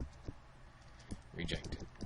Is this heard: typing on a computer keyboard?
yes